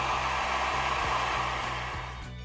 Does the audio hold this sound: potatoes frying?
no